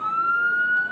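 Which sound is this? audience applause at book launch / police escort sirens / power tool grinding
police escort sirens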